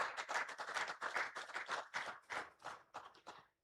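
Audience applause at a World Hydrography Day ceremony in Nigeria, close, lively clapping from a small group that keeps a quick uneven rhythm before stopping abruptly.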